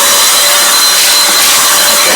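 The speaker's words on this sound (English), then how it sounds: "Blowing everything off my desk, making a huge mess." A powerful electric air blower fitted with a standard-size nozzle roars in a loud, steady, broadband rush of air that runs close and unbroken throughout.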